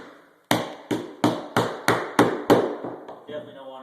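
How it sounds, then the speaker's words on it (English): A 24-ounce hammer drives nails into carpet tack strip with seven sharp, evenly spaced blows, each ringing briefly before the next, heard up close and loud. "I'm using a 24-ounce hammer because that's what I feel comfortable with"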